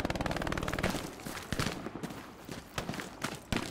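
Rapid automatic fire from an MP40 in the World War II shooter Hell Let Loose, aimed at a tank, with dense bursts at first and then scattered shots and distant gunfire echoing.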